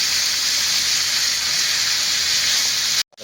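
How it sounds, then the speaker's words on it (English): Peppers and vegetables mixed with black pepper cook in a pan, a loud, steady sizzling hiss that runs unbroken before cutting off abruptly near the end. "The peppers are cooking."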